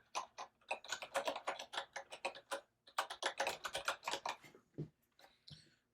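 Rapid keystrokes on a computer keyboard as code is typed, a quick, uneven patter of close, quiet clicks running in two bursts with a brief pause between them.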